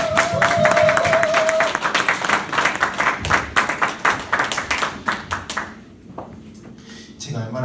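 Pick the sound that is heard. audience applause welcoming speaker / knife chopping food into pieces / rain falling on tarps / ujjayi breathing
audience applause welcoming speaker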